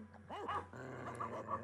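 A virtual dog growls in the Petz 4 video game, a short, faint, low rumbling growl with small whimpering yips, heard alone.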